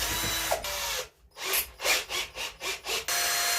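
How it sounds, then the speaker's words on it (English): A drill with a long 6mm bit bores into the wooden body of a Gibson Les Paul guitar. A steady high whine is followed by a brief pause, then a run of rhythmic, grinding bursts before the whine resumes, all close up. "what we're going to want next is our long 6mm drill bit and a drill"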